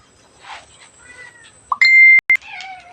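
Cats meowing at Wat Pong Chai temple in Chae Hom, Lampang, Thailand, with a soft distant cry and then a sharp close meow, joined by electronic beeping tones.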